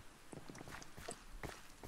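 Footsteps of a video game character walking across a wooden floor, a brisk series of soft, clopping knocks at a steady pace, faint and near, with no voices.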